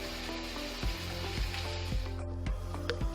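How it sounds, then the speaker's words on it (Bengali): Vegetables simmering in a pan with a little water and green chilies, a faint steady sizzle under a low repeating mechanical hum, with no talk. "এবার আমি অল্প কিছু পানি দিয়ে আর কাঁচামরিচগুলো দিয়ে 15 মিনিট রান্না করব"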